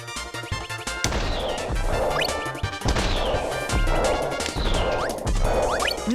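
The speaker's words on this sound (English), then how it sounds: "Homing missiles." Homing missiles exploding in the video game Kirby 64: The Crystal Shards, with a run of loud crashing blasts about once a second, each followed by a rising zing, all over a busy game music backdrop.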